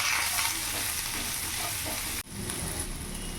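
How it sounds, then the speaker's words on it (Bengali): Pasta tossed in a pan with salt, Kashmiri chili powder and turmeric, a dense continuous sizzle with stirring scrapes, loud and near, briefly cut off then resuming, no voices. "ভালো করে নাড়াচাড়া করে নেব।"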